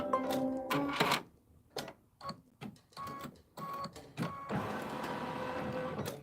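Sewing machine stitching quilting lines across a small fabric mug rug, a rapid mechanical chatter in several bursts with short pauses, then a steady continuous run near the end, close and clear with no talking.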